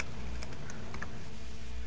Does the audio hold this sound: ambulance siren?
no